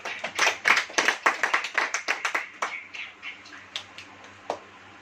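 A church congregation claps hands together in a quick, fairly loud burst that gradually thins into scattered, fading claps, heard alone without speech.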